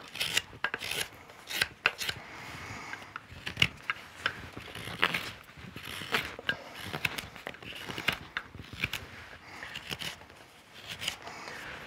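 A hook knife carves wood close up, cutting with a Swedish knife grip: quick, dense scraping and shaving strokes come in an uneven run of short bursts, with no talking.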